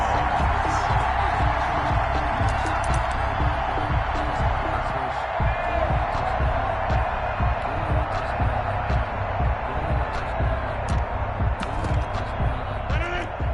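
A stadium crowd in a PS4 football game roars and cheers continuously at moderate loudness, with thumping impacts and commentary voices over it.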